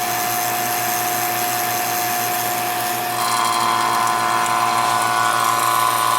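A vacuum pump evacuates the air conditioning system of a 1994 Saab 9000, producing a loud, continuous mechanical drone with a rattling, gear-like texture that runs steadily throughout without pause.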